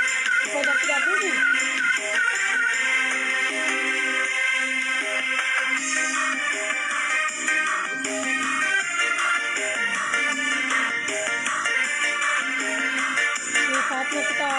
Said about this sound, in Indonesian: HP ku kasihan bunyi terus.